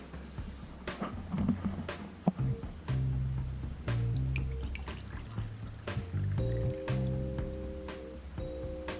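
Water pours into a glass, a soft dribbling and trickling fill with drips and a few light knocks, close and quiet with no talk.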